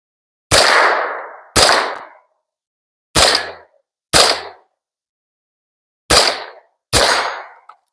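An AR-15 rifle in a rare caliber fires six unsuppressed shots in the open, each a sharp loud crack with a short ringing tail, spaced unevenly about a second or more apart with silence between.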